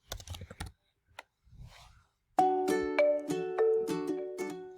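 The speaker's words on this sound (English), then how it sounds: "and then type in your PIN" A few taps on a Mac computer keyboard while a PIN is entered, then a run of bright, tonal chimes or beeps sounding in quick succession.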